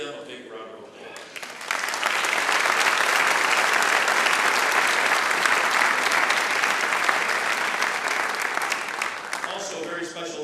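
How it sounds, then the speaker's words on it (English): An audience at a high school band's Sousa-style pops concert gives loud, sustained applause that swells in after a moment of quiet and holds steady before tapering, with a voice briefly audible at the edges. "We'd like to ask that you please give them a big round of applause."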